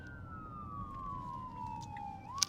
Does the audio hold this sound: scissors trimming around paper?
no